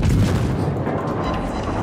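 Warship naval guns fire shells in the game World of Warships, a dense continuous booming roar that stays loud and close throughout the short burst.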